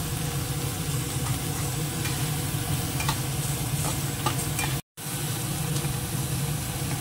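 Ingredients being stirred and mixed in hot oil in a pan, with egg cooked in the oil, give a steady close sizzle and frying hiss, with soft stirring scrapes throughout and a brief dropout near the end.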